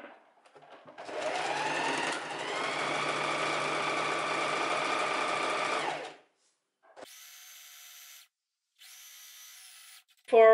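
A sewing machine runs a long steady seam close to the edge of a linen dress, about five seconds of continuous whirring, followed by two short bursts of stitching.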